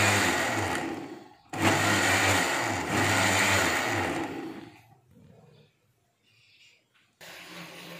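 An electric blender grinds a strawberry milkshake in two short loud whirring bursts with a brief pause between, then winds down into quiet rattles before a final short whir starts up.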